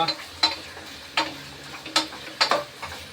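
Goat trotters frying with onions in a pan, with intermittent sharp scraping strokes of a spatula over a steady low sizzle, close and clear, five or six stirring bursts, no voices.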